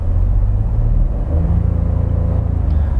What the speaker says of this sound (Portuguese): vou dar uma acelerada para você ver